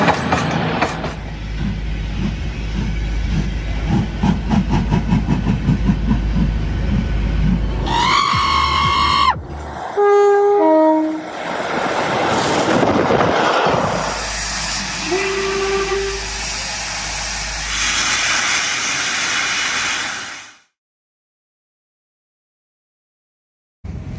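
A heritage railway steam locomotive on the Plym Valley Railway chuffs and hisses, then gives several whistle tones, with loud bursts of steam before the sound cuts to silence.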